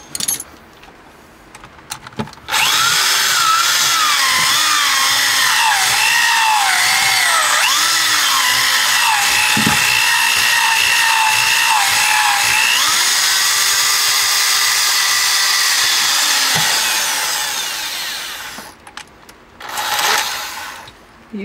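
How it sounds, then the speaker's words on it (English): A power saw whines steadily through wood for about fifteen seconds, loud and close, with pitch dipping as it bites, then winds down. "You sawing through this?"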